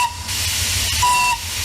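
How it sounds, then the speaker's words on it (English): A steam locomotive that pulls passenger cars around Birmingham Zoo hisses loudly and steadily nearby, with a long steam whistle tone sounding briefly through the hiss, no talking. "The steam-powered train that traveled across the facility for 4 decades will be replaced this week with a new propane-powered one."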